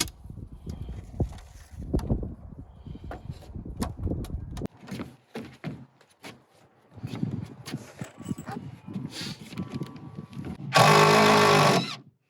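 A power drill drives long bolts into deck boards over 4x4 posts outdoors, with short, close bursts of whirring and clattering between pauses, then a brief loud high drilling burst near the end.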